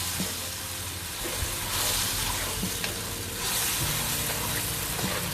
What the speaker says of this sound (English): So we've got the tikka paste there and the liquid from the mussels, and that's just allowing the masala spices to cook out.